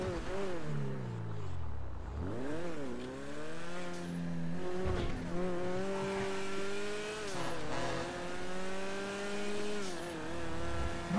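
A small turbocharged convertible in a Los Santos roleplay driving game revs hard, its engine pitch climbing and dropping repeatedly through gear shifts, loud and close throughout.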